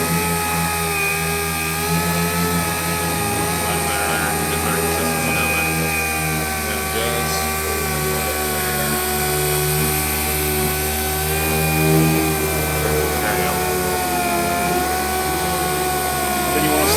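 A RUPES sanding machine fitted with a 6-inch disc runs at high speed, around 11,000 RPM, giving a loud, steady whirring drone with a slight wavering pitch that continues throughout, while people talk over it.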